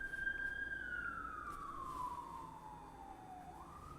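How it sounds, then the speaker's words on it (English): An emergency vehicle siren wails outside, one long tone sliding slowly downward as it passes at a moderate distance, with no talking. "Sorry if you could hear the sirens."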